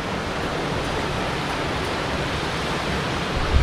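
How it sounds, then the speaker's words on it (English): A waterfall on a Scottish hill path near a river crossing pours in a steady, loud broadband rush with no break, heard up close and without any voices. "It's a lovely waterfall."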